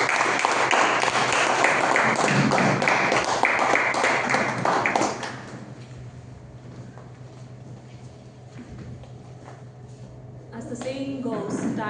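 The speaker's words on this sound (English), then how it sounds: "Please give big round of applause." Applause rises from an audience at a Toastmasters club meeting on a Diwali special evening, dense and steady for about five seconds before fading into quiet room tone, with a voice starting near the end.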